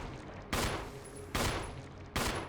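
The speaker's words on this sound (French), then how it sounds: "je vais mettre un peu des balles de pistolet là" Three loud pistol shots in the Resident Evil Remake video game, evenly spaced about eight tenths of a second apart, each a sharp broadband crack over a low background hum.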